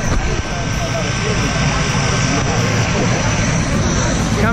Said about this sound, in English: Here comes our plane.